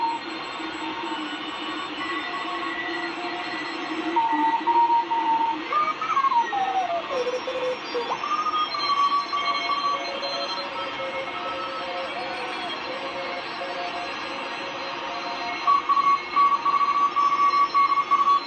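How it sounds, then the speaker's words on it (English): Several overlapping Morse CW tones pipe through a Hallicrafters S-38C shortwave receiver with its BFO on, thin whistling beeps at different pitches drifting over a constant hiss and static, with no voices. "You can hear at least four different signals at once."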